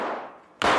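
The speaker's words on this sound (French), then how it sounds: "Des coups de feu, il me semble." Gunfire from a smuggling-island drama: one sharp shot decays into quiet, then a second loud, abrupt crack bursts in close by, with no talking.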